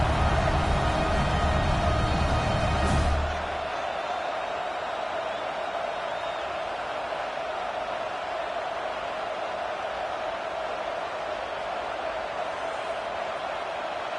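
Stadium crowd in a College Football 26 game rises in a loud, broad roar that abruptly drops after a few seconds to a steady, softer wash of distant crowd noise that carries on alone.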